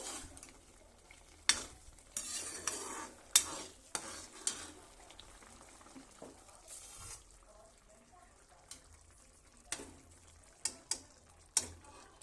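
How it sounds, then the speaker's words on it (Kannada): Green rice with peas being mixed in a pan with the stove switched off: scattered scraping stirs and sharp spoon knocks against the pan, coming in irregular bursts over a quiet background. "ಸ್ಟವ್ ಆಫ್ ಮಾಡಿ ಕಲಸ್ರಿ."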